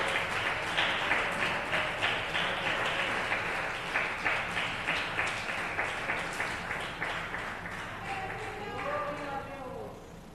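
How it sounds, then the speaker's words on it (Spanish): A church congregation applauds, a steady mass of clapping that sounds somewhat distant, gradually fades and gives way to a speaking voice near the end. "Denle un aplauso fuerte al Todopoderoso."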